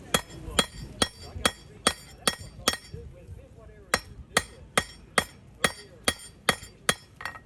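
A metal hammer strikes a hand-forged square nail at a reenactment forge, sharp ringing blows in quick rhythmic runs with a brief pause midway, close and clear without talk.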